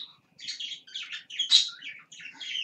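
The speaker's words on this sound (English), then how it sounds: "Birds." Caged pet birds chirp and tweet indoors in quick, bright bursts of calls, fairly close and moderately loud, with brief pauses between phrases and no talking.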